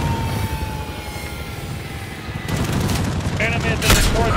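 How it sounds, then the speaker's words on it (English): In a video game match on the Backlot map, a called-in close air support aircraft hums overhead, then strafing gunfire breaks out as loud rattling bursts in the second half, with voices in the mix. "you called up close air support"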